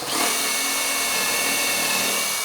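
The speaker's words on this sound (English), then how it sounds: "we just put the 1/2-inch drill bit onto the drill" A power drill fitted with a half-inch bit bores through a rubber mat laid over wood on a grinder stand base, giving a loud, steady, close whine that runs unbroken for a couple of seconds with no talking.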